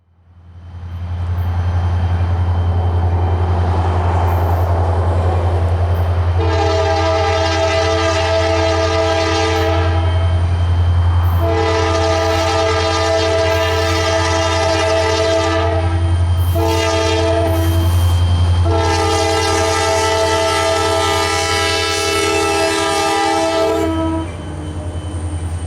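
AWRR ballast train departing Bertram, Texas, with a loud low diesel engine rumble throughout and three long multi-tone horn blasts plus a shorter one, heard close and powerful.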